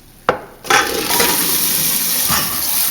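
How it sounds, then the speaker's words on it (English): Hot tap water gushes onto freshly cooked pasta being drained and rinsed, starting with a sharp clatter and then a steady close splashing rush. "we're actually just rinsing it in hot water"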